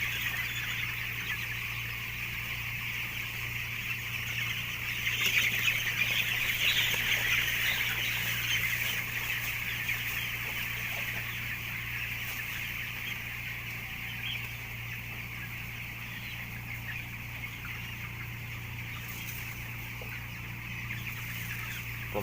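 A flock of 13-day-old chicks clucks and peeps without pause: many small overlapping calls at close range over a steady low hum, with no talking.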